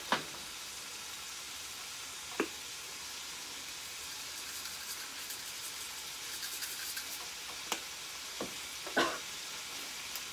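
Great northern beans simmer and sizzle in a pan with a constant soft hiss, broken by a few occasional knocks and clinks.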